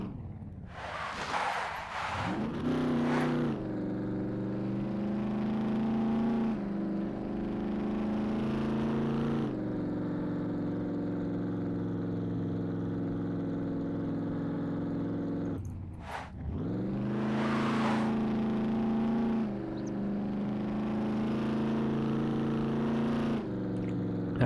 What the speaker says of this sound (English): turbocharger's noise is really nice.